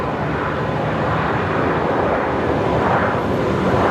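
A Rex Airlines passenger plane arrives at Brisbane Airport at night after a flight from Roma. Its engines give a steady, broad roar that stays loud and even for the whole stretch, with no voices over it.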